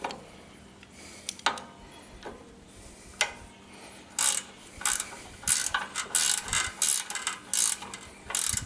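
A ratchet tightens the last bolts on a John Deere three-point tiller, sounding as quick, close runs of sharp clicking that come in bursts between scattered knocks and quiet pauses.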